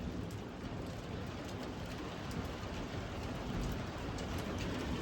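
Steady rain falls across a dry but green farm, a constant soft, even patter heard from outdoors without voices, fairly faint and unbroken throughout.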